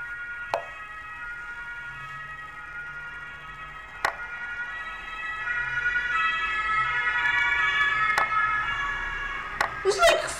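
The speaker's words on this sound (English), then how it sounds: "There's like 15 ambulances at the same time!" Wailing sirens of about fifteen ambulances rise and overlap, growing louder and denser, punctuated by a few sharp clicks.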